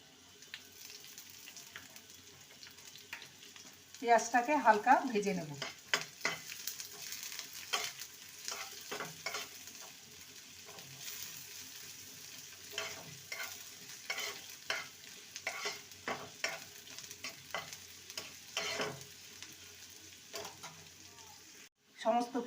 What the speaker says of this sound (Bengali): লঙ্কাটাকে ভেজে নেব এবারে দিয়ে দেবো পেঁয়াজ কুচি